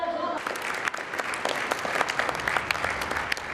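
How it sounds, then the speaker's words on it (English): An audience at a knights' tournament show in Hungary claps for a dagger throw, dense close applause building right after a brief voice and continuing steadily throughout. "The audience applauds"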